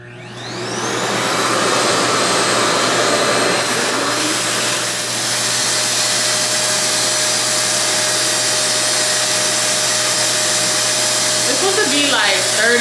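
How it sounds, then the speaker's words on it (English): A RevAir hair dryer switches on and runs as a loud, steady, close whirring roar with a sustained hum, continuing throughout with no talking, during a wash-day routine on natural 4C hair. "And then I'm gonna turn my Rev Air on."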